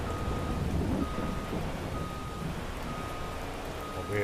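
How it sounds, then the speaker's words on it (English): Steady heavy rain from a stormy sky in a farming video game, a dense continuous hiss and patter with a low rumbling undertone, loud and without any speech. "We're nice and stormy right now."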